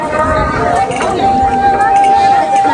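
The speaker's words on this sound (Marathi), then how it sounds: "ते बघू शकताय केवढी गर्दी आहे" A large crowd at Jarandeshwar temple on the last Saturday of Shravan, a fair-like gathering heard as dense, close babble and movement that stays loud and constant, with a voice speaking over it.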